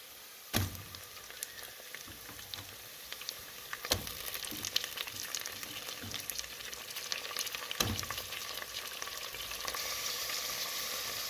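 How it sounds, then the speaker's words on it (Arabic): Chicken pieces sizzle and fry in a pot over softened, wilting onions, a steady crackling hiss with a few sharper clatters as they are dropped in or stirred, close and alone without talk. "بعد أن بدأ معنا البصل يذبل شوية أو يذوب، الآن نضع الدجاج."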